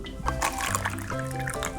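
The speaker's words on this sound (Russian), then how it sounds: "Наливайте воду в стаканы." Water poured into cups for a children's cabbage experiment, a close trickling and splashing stream with shifting pitch as the cups fill, with some faint background noise.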